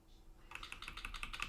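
Computer keyboard keys are pressed to navigate the Plex HTPC client app, a quick series of crisp, close clicks arriving in an irregular rhythm in a quiet room.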